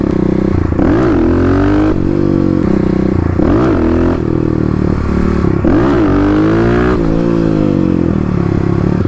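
A Kawasaki KLX250 dirt bike engine revs hard in repeated surges during a power wheelie, loud and close, its pitch rising and falling with each throttle blip over a rough clattering drone.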